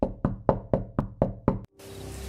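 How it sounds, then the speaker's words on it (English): Seven loud, evenly spaced knocks on a door ring out close by in a steady rhythm, then stop abruptly and give way to a low ambient hiss. "Okay, that was definitely a knock."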